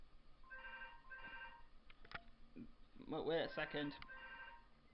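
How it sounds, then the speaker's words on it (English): A telephone rings in two short bursts in the background, followed by someone briefly speaking over further clattering sounds. "Stupid phone going off."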